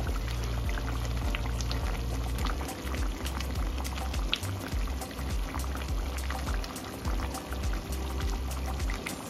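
Potatoes and green peas tumble into a pot of simmering chicken curry, with a steady bubbling, sizzling wash and scattered soft splashes and clatter throughout, close and continuous with no talk.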